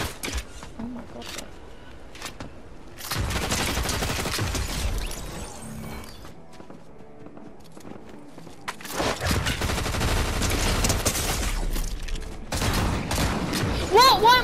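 Submachine gun fire in a video game comes in several loud, rapid bursts separated by quieter gaps, with a player talking over parts of it.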